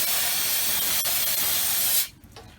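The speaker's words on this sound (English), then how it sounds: "we're going to spray it with some brake cleaner" A steady, loud aerosol can of brake cleaner sprays onto a disc brake, hissing for about two seconds, then cuts off, leaving quieter room noise.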